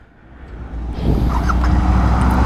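A 2024 Royal Enfield Interceptor Bear 650 motorcycle engine firing up, a brief start followed by a loud, steady low idle rumble close by, with no talk.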